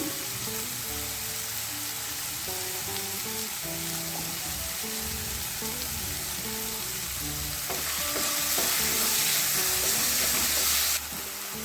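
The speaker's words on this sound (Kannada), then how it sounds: "ಟೊಮೆಟೊ ಫ್ರೈ ಆಗಿದೆ" Chopped tomatoes with salt fry in a pan for a Mangalorean-style egg fry, giving a steady, loud, close sizzle with stirring scrapes on top that swells briefly near the end, with no voices.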